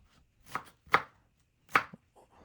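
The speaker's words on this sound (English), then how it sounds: "So let's cut into smaller pieces." A knife chops through an onion on a cutting board, four sharp, separate strikes with short pauses between them, close and fairly quiet with no talking.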